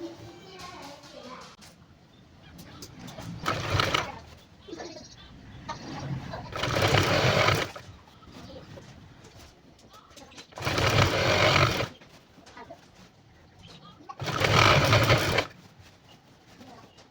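A sewing machine stitches a border onto a skirt in four separate whirring bursts of a few seconds each. Quieter room noise and a faint voice fill the pauses between runs.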